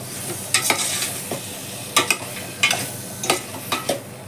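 Tomato pieces are stirred in a hot pan for a tamarind drumstick rasam, with irregular scraping strokes of the spoon standing out above a soft, steady sizzle of frying.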